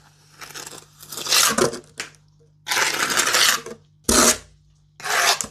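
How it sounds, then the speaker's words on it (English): A steel trowel scrapes and smooths lime mortar pointing on a French farmhouse wall in close, rasping strokes, each lasting about a second, separated by short pauses. "I'll use the side of the trowel to just go level it up on there"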